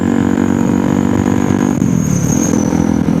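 Two motorbikes ridden by a doctors' charity motorcycle club on a road in Bali, a steady loud engine drone running throughout with a slight shift in pitch partway, no talk over it.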